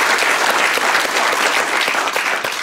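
Studio audience of an Austrian daytime talk show breaking into steady, full applause, a thick continuous rattle of many hands with no pause.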